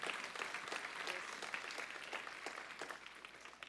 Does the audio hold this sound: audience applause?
yes